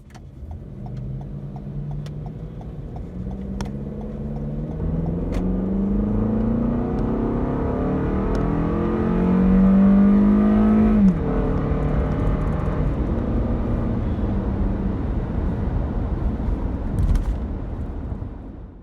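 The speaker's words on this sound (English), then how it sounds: "the engine is horrendously loud and unrefined" A 2020 Toyota RAV4's direct-injection engine revs steadily higher for several seconds, growling loudly with a rising pitch, then drops off abruptly and settles into a rough, noisy hum.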